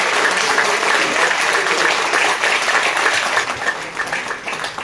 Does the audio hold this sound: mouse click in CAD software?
no